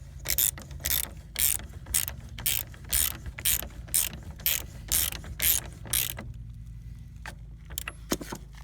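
A ratchet tightens the lower banjo bolt on an Audi A4 B5 Avant fuel filter, close and loud: a quick series of clicking strokes in short rhythmic bursts, then a quiet pause and a last brief flurry, with no talking.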